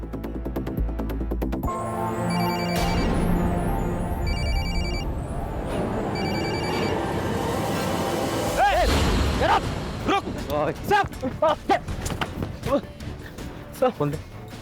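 A telephone rings in repeated electronic trills over a loud, busy backdrop of voices and music, followed by a burst of speech near the end.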